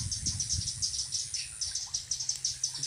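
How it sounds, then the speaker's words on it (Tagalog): Many small birds chirp in a fruiting star apple tree over a steady high cricket trill, with rhythmic repeated calls and soft low rustles nearby, and no speech. "Daming ibon."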